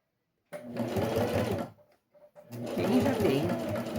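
A sewing machine stitches fabric for a sanitary pad holder in two close, steady whirring runs separated by a brief pause with a few short stitches, no voice heard.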